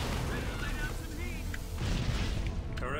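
A grenade blast in the video game Halo Wars, a heavy booming explosion amid continuous battle rumble and gunfire, with in-game voices calling out over the din.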